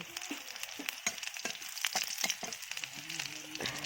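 Whole cumin, bay leaf and green chilli tempering in hot oil for a cauliflower and potato dum, giving a steady close sizzle broken by sharp crackles and pops, with some stirring scrapes.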